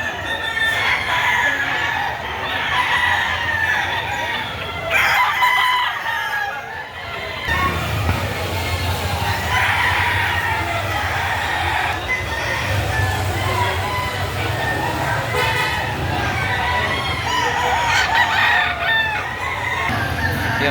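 Roosters crow repeatedly at a crowded chicken market, loud calls over constant clucking and the murmur of people talking nearby.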